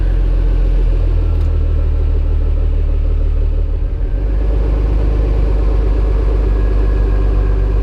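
A Jeep Cherokee XJ engine running after sitting for 12 years, a loud, deep, steady rumbling idle close by with a brief dip in the middle, no voices.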